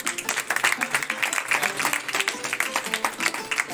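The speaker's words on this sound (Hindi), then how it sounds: "इसके लिए भी कमजोर ताली और जोर ताली।" A crowd at a home meeting held in a house claps loudly in a fast, rhythmic patter that runs the whole time, with voices mixed into the clapping.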